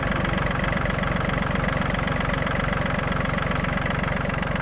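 Three-cylinder 1.4 litre engine of an Iseki TU-217 Japanese mini tractor idling steadily, a close, continuous low rumble with an even rhythmic chug and no talk.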